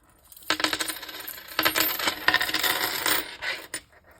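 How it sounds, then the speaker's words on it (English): Coins clink and jingle inside a heavy wallet stuffed with quarters, in several bright metallic bursts of shaking and rattling close up, with brief pauses between them and no talking. "This wallet is very heavy because I have all these coins."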